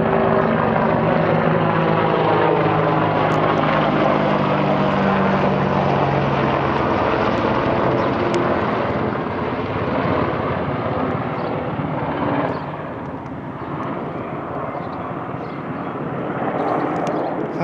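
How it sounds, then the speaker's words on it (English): Loud, steady droning engine roar of a big airplane passing overhead, with rotor-like pulsing and harmonics shifting slowly as it moves away. "big airplane. Wow, check that guy out up there."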